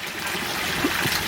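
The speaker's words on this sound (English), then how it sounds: "I'm getting a lot of water splashing up onto the wood" Pond water pours and splashes under a spillway onto wood, a close, steady trickling and gurgling rush lasting about a second.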